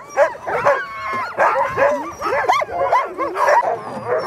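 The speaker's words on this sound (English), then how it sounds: "All the dogs were quiet until the harnesses came out and everyone in the kennel got excited." Excited sled dogs in a kennel bark, yip and whine in overlapping bursts, close and loud, with no pause in the clamour.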